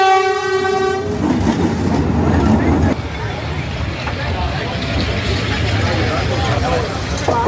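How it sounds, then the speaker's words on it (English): Train on a street track in Vietnam sounding a loud horn, then rumbling and clattering past very close, with people talking over the noise. "apparently the train's going to come past"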